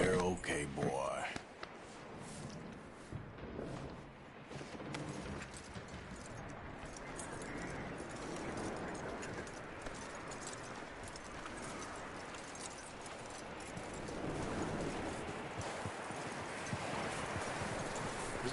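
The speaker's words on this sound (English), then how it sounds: "That looks like a decent horse." Horse hooves clip-clop in Red Dead Redemption 2, a steady rhythmic trot heard up close, with faint voices and other game sounds in the background.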